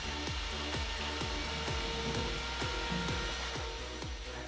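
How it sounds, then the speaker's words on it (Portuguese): A cordless drill mixes wall compound in a bucket. A steady motor whir runs throughout, and the paddle makes rhythmic sloshing sweeps roughly every half second. "Se você não tiver uma parafusadeira assim para poder misturar, você pode usar a mão mesmo."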